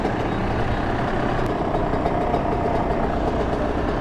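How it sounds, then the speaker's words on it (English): A two-stroke dirt bike engine idles steadily at a gas station, a continuous low rumble with a faint high whine, loud and close with no talking. "I had the bike running that whole time"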